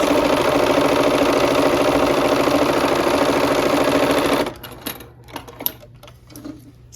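A sewing machine runs a steady, rapid straight seam joining plum and light green quilt blocks, loud and continuous for about four and a half seconds, then stops, leaving a few quiet clicks and handling sounds.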